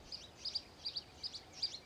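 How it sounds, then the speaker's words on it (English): Birds chirp faintly in a quiet virtual-reality clearing, about five short, evenly spaced bursts of tweeting over a soft hush, with no voices. "There's the birds."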